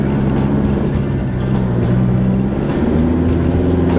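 A 4WD vehicle's engine drones loud and steady at close range as it climbs the steep track at Billy Goat Bluff, a low continuous rumble with slight shifts in pitch and no talking.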